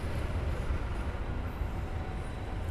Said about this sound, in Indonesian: Yang baru saja berangkat itu kereta api Logawa dari Purwokerto tujuan Jember